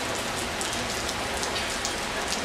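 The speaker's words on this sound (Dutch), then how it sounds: "Ook in Italië kan het aardig regenen." Steady rain in Sicily pattering down onto a parasol overhead, a dense continuous hiss that stays even and close throughout with no voices.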